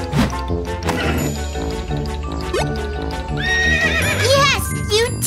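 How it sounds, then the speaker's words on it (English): A horse whinnies with a high, wavering neigh over busy background music and hoof-like clip-clop sounds, loud and close. "Horses neigh!"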